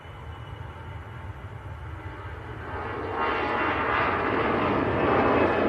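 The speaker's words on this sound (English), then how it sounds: "Indigo, Dreamliner, next to land." An IndiGo Boeing 787 Dreamliner comes in to land at Manchester Airport, its engine roar building steadily from a low rumble into a loud, broad wash of jet noise.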